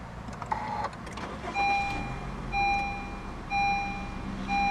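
A 2015 Honda Jazz 1.5 V starts up from a push-button, with a brief starter crank that settles into a steady idle, while a repeating electronic chime beeps at regular intervals.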